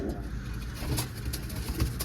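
Pigeons settled in a netted backyard loft give a steady, low, throaty cooing that runs continuously throughout, close by and fairly full, with no talk over it.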